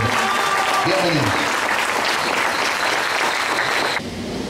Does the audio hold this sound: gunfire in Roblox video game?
no